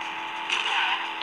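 A car drives in a Minecraft-style car racing video game, producing a brief, steady engine drone that swells slightly midway.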